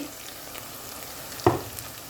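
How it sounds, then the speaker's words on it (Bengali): Ground spice powders fry in a pan, giving a soft, low sizzle that is broken by one sharp clatter or scrape near the end. "আগে একটু যেন গুঁড়ো মশলা ভাজা করে নিই"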